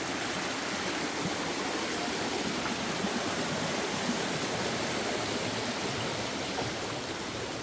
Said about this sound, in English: Let me take a picture of you with the noisy, noisy, noisy water.